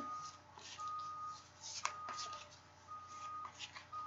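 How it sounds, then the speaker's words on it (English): Soft papery riffling of angel cards being shuffled, close and quiet, with a few brief snaps and flicks scattered through. "So just giving them a little bit of a shuffle here"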